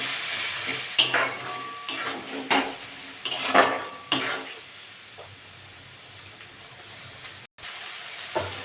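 Masala is stir-fried in a pan of oil for a potol and potato curry, with sharp metal spatula scrapes and clinks over a soft sizzle, busy at first and then quieter with sparse stirring.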